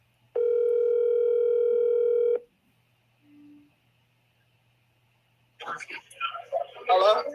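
A phone call rings out with a single long, steady electronic ringback tone, followed by quiet waiting and then a voice answering and talking.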